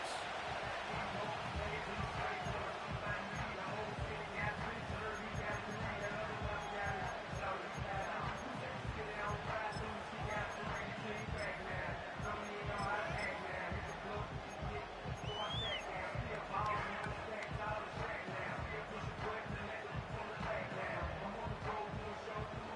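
Stadium crowd in the Madden 25 football video game, a dense, steady roar of many voices holding at an even level from start to finish with no break.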